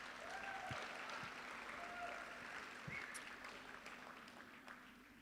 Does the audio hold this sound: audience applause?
yes